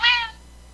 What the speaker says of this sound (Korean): 우리 이제 고양이가 계속 짖네요.